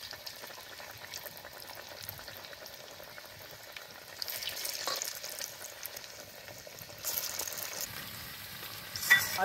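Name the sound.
onion pakoras (piyaji) deep-frying in oil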